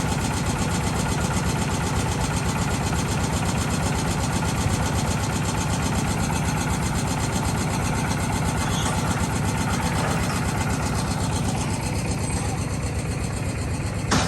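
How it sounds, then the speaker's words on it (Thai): An engine-driven water pump runs near floodwater at a stage setup. It gives a loud, continuous, steady mechanical drone with a throbbing rhythm, close by for the whole stretch. "ต้องใช้เครื่องสูบน้ำครับ"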